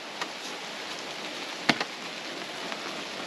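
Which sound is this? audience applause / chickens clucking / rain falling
rain falling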